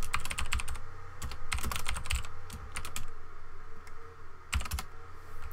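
Typing on a computer keyboard at a Linux terminal, with fast clustered keystroke bursts separated by short pauses, close and crisp over a low steady hum, no voices.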